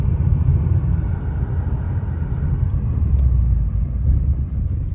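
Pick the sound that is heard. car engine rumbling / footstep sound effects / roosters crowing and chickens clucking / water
car engine rumbling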